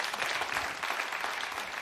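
A TV talk show studio audience clapping steadily and densely, a continuous wash of applause with no break, fairly close and full.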